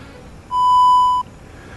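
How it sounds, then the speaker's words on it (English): An answering machine gives a single clean electronic beep. The steady tone lasts about three quarters of a second, is loud and close, stands alone over faint background hiss, and no one talks. "please leave your name and number after the beep"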